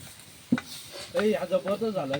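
A spoon scrapes and stirs chicken in a cooking pot over an outdoor fire in a forest, amid a soft sizzle, and a voice speaks over the stirring in the second half.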